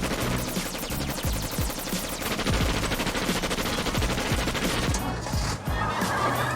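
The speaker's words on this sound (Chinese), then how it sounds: "随后便是一阵持续5分钟的机枪扫射" Sustained machine-gun strafing in an animated film: a dense, rapid stream of gunfire with overlapping bursts that continues without pause, fairly loud and with no voices over it.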